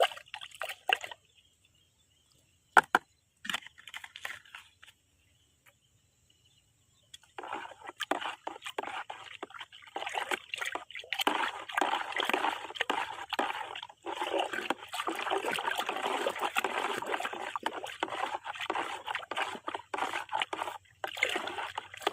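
Pesticide mixture being stirred in about 17 liters of water for shallot crops, heard as intermittent splashes and sloshing that grow into continuous liquid churning after a quiet start.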